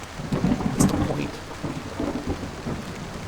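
Rain pours steadily with rolling thunder rumbling in a stormy scene from the video game Portrait of a Torn, a low continuous roar with a brief crack near the start.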